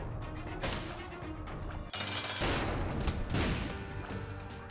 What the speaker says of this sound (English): Oh, there's a nice explosion there.